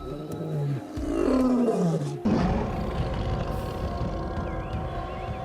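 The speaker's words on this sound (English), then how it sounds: "While this side of the family can purr, big cats can't. As we know, they roar." A big cat gives deep roars, loud and close, two drawn-out calls with a sharp onset midway, then a lower rumbling growl trailing off.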